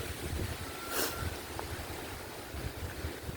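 Strong typhoon wind blows in a steady, broadband roar near the sea, buffeting the microphone with rumbling gusts throughout, with no voices.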